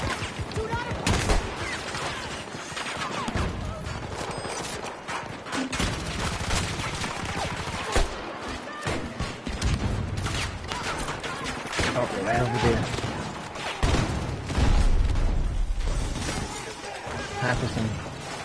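Rapid gunfire crackles through a Battlefield 2042 match, bursts and shots tumbling over each other almost continuously with occasional heavier thumps, while a player talks throughout.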